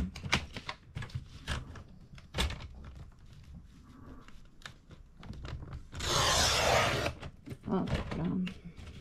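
A paper trimmer (massicot) slices through paper in one loud, abrupt cut lasting about a second, among quieter tapping and handling noises, with someone talking before and after.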